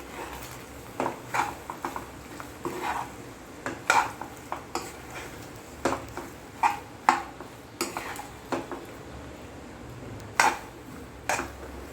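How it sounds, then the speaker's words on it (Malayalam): Pasta with oregano being stirred in a pan: irregular clinks and scrapes of a utensil against metal, fairly close, with short pauses between strokes and no talking. "ഒന്ന് മിക്സ് ചെയ്ത് കൊടുക്കാം നല്ലതുപോലെ."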